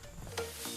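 Sliced onion dropped into hot oil in a pan with garlic already frying, a soft close sizzle with light stirring, brief and quiet.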